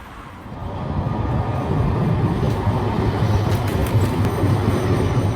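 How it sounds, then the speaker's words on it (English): Steady low rumble of a tram rolling along rails in Amsterdam, a continuous rolling roar that swells early and then holds, with faint metallic clicks. "I think I'll have to take a tram."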